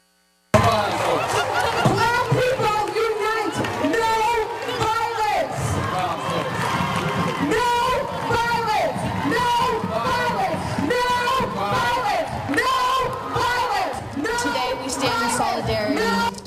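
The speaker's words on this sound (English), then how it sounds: "Let's take a look at some of the sights and sounds from today's protest." Dense crowd noise at a Black Lives Matter protest rally, a steady loud wash of many voices with shouting and chanting, heard close and continuous throughout.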